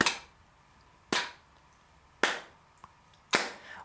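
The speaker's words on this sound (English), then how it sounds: "Let's clap along." Four slow, evenly spaced hand claps keeping a slow tempo along to music practice, each sharp and close with short decay, about one second apart and no voices.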